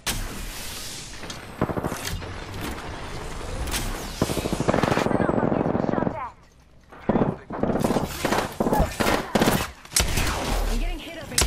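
Rapid bursts of automatic gunfire from the video game Apex Legends, loud and close, broken by a short lull and then renewed volleys, with a voice talking over the shooting.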